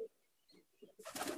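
Pigeons in a loft, Andhra breed among them, give soft low coos close by in short separate notes. A louder rustling burst follows at the end.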